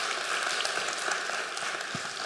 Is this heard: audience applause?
yes